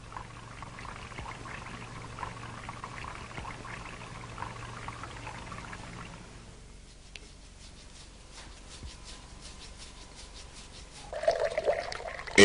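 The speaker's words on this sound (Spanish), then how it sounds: "La percha atrae hacia sí un chorro de agua." A thin stream of water is drawn toward a charged hanger in a static electricity demonstration, trickling and pattering steadily at moderate level, with a quieter stretch in the middle and a louder burst near the end.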